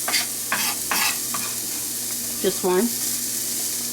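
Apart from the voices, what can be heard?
shallot sizzling as it is stirred into a pan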